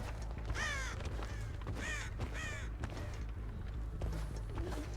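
Inside the game Dead by Daylight, a crow caws three times in quick succession, harsh and fairly close, then gives a fainter call later over a steady background rumble.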